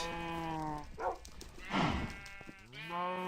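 A cow in a Minecraft modpack moos several times in a row, each call a drawn-out harmonic low, heard clearly and close with nobody talking.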